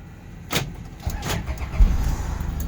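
Toyota Hi-Ace Grandia van engine cranking and starting after being switched off, with two short bursts around the start and a low steady idle rumbling afterward, close by and with no talk.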